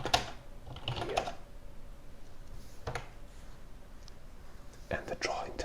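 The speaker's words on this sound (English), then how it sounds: "Some sounds like the keyboard right here" Tapping on a computer keyboard during an ASMR drawing session, a few soft bursts of keystrokes spaced apart, close and quiet, with faint whispering between them.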